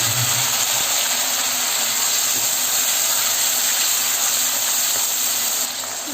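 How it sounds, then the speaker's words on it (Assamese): Tomatoes fry in leftover fish-frying oil with onion in a pan, giving a loud, steady sizzling hiss that carries on without a break. "ইয়াতে মই এতিয়া বিলাহীখিনি দি 1 মিনিটমান ভাজি লওঁ।"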